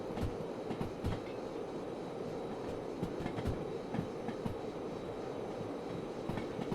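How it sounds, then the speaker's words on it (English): A long freight train of 164 wagons, hauled by three DE6 diesel locomotives with slugs, rolls past close by in a steady, heavy rumble with rhythmic clickety-clack from the wheels and no talk. "There comes the second loco."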